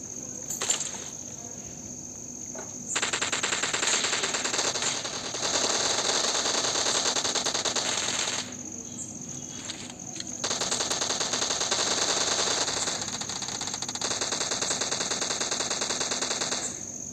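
Video game machine gun fire in long rapid bursts, close and sharp, separated by brief pauses, over faint background game sounds.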